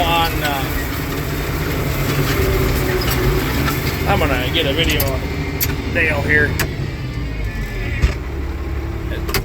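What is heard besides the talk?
tractor engine running on a farm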